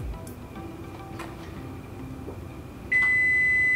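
An oven timer gives a single sharp electronic beep near the end, after a stretch of quiet kitchen room tone with faint clinks.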